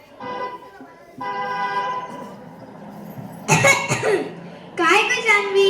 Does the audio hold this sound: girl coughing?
yes